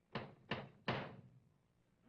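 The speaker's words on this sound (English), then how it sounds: "And he knocks on the door." Knocks on an apartment door at night, three firm raps at an even pace followed by a fourth beginning, close and fairly loud, with no voices over them.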